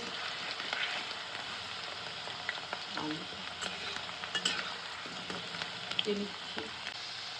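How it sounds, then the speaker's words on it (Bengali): Cauliflower fries in oil in a pan, a quiet steady sizzle with occasional scraping and stirring clinks from a utensil. "একটু লাল লাল করে ভেজে নেব ফুলকপিটা লাল লাল করে ভেজে নিচ্ছি"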